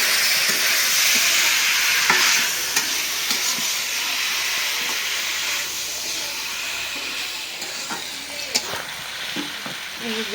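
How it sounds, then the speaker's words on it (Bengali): Raw green tomatoes fry over low heat with onions, chilies, salt, chili powder and turmeric in a pan, giving a steady close sizzle and hiss broken by scraping stirs throughout. "জাল কমায় কমায় ভাজতেছি, মানে ভালো মতো সেদ্ধ হয়"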